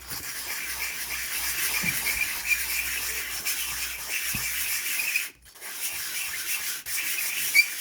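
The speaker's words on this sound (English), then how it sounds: "this is the only piece of sandpaper I have" Sandpaper rubs back and forth on a small part in a steady, close, faint scratchy hiss, with one short pause partway through.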